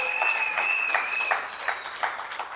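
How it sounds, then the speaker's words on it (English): Applause from an audience at a political gathering rises and swells for a couple of seconds, with a steady tone and a voice carrying over the clapping. "Give him a round of applause."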